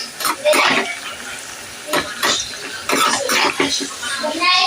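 An evening snack fries in a pan and is stirred, giving a steady sizzle with scraping stirs underneath a person talking throughout.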